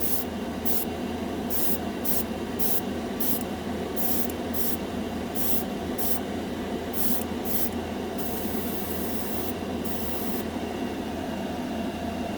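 Spaz Stix Mirror Chrome paint hisses from an aerosol can in a continuous close spray with brief pauses, steady and fairly loud throughout, with no talking.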